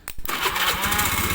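Electric starter motor on an older Honda Beat injection motorcycle cranking after being jumped, a close, steady mechanical whir that begins abruptly and runs for just over a second.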